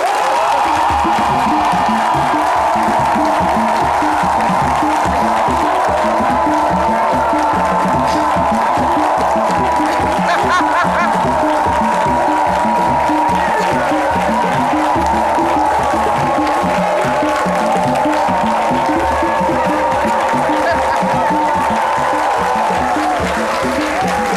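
A studio audience on a French-language midday television show applauding, a loud sustained wash of clapping and cheering held for over twenty seconds, with a rhythmic musical beat pulsing underneath.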